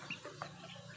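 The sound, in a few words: chickens clucking, fighting roosters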